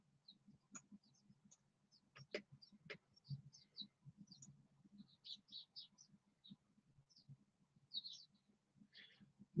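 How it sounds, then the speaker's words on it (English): Birds call outside in short, sparse chirps and tweets, faint and distant, scattered over quiet low background noise. "There are funny bird noises coming from outside."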